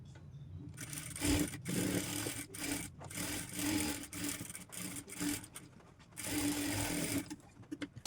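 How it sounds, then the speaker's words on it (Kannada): Sewing machine stitching blouse fabric in a steady whirring run, briefly pausing and restarting several times, close and fairly loud. "ಈ ಕಡೆಯೂ ಕೂಡ ಅದೇ ರೀತಿ ಸ್ಟಿಚ್ನ ಮಾಡ್ಕೊಳ್ಳಿ"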